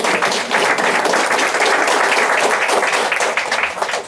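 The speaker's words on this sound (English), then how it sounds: "So let's please give a big round of applause." Dense, loud audience applause at a cancer caucus event, steady and continuous throughout, tapering slightly at the very end.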